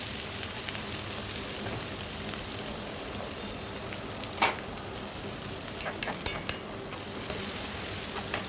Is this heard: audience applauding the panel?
no